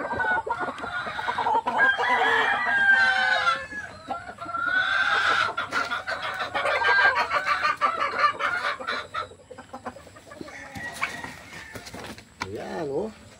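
A grey gamecock, a three-time fight winner, is put back with its hen, and the birds cluck in bursts of varied pitch, with crowing-like calls close by and a voice speaking at times among them.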